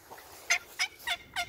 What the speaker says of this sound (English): We just heard a hen yelp